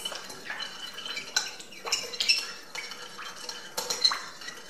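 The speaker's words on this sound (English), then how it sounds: "I'm just going to give that a little mix" Utensils clink and scrape against a bowl while potato salad seasoned with salt and pepper is stirred, giving several sharp taps amid soft wet mixing, close and steady with no talking.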